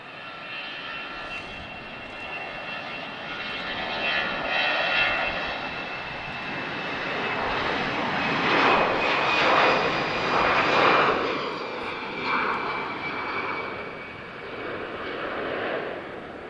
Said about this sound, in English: Okay, EasyJet departure.